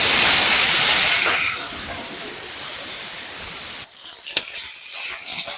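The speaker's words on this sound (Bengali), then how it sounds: "আলুটাকে মিনিট দিয়ে ভেজে নেব।" Two large potatoes cut into pieces go into hot oil with tempered spices for a vegetarian potato and cauliflower curry. A loud, bright hiss fades over a few seconds, then drops to a quieter, crackling sizzle.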